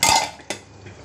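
A metal lid clinks onto a cooking pot, a bright clatter followed by a second lighter tap as it settles.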